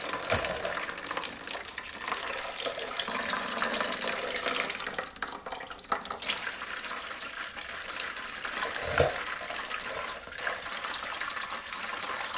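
A steady stream of water drains from a flooded Pontiac's engine oil pan, pouring and splashing continuously into a container, close by, with no talking.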